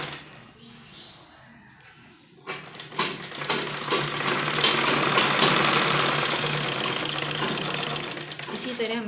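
A sewing machine stitches a thick running seam on a sleeve, starting after a quiet stretch with soft voice and then running loud and steady for several seconds.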